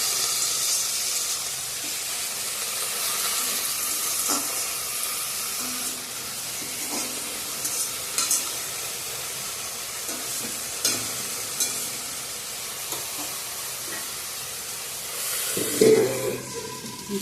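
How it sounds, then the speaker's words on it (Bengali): Leafy greens (saag) fry in a pan with a continuous close hiss and sizzle, broken by intermittent stirring scrapes and clinks, with a louder clatter near the end; no one speaks. "তো শাক ভাজাটা হয়ে গেছে, এখন নামিয়ে নেব"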